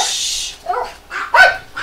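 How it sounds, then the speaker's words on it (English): Several dogs bark in short bursts, one bark early and two louder ones near the end, sharp and close with brief whimpering yips between, no talking. "Got interrupted by dogs."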